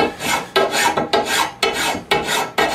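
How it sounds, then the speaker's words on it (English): A hand file is drawn over the edge of a steel trapping tool in loud, close rasping strokes, about five evenly paced passes with short gaps between them and no talking. "file her down at whatever angle you're using"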